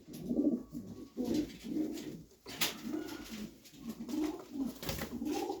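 Pigeons cooing close by in repeated low, throaty bursts, a rhythmic rolling murmur with little else around.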